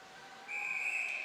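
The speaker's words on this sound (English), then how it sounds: "that will bring us a whistle." A referee's whistle at a high school ice hockey game, a single sustained shrill blast starting midway and holding steadily, fairly loud over faint rink ambience.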